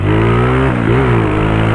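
A motorcycle fitted with new wheels rides along with its engine droning steadily and close, pitch dipping briefly as revs shift mid-run, loud and with no talk.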